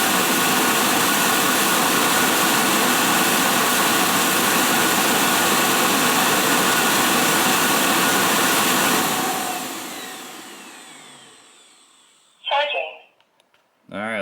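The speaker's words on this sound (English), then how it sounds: "This doesn't sound like much suction." An iHome NOVA robot vacuum runs with a loud, steady whooshing suction that winds down and fades to silence, after which a person speaks briefly close by.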